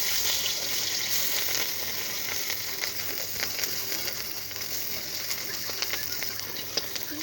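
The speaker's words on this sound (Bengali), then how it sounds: "প্রথমে তেল দিয়ে দিলাম, রসুন আর লঙ্কাটা দিয়ে দেবো।" Garlic and chili sizzle in hot oil in a pan before jute leaves go in for a Bengali greens dish, making a steady, close crackling hiss that runs throughout without talk.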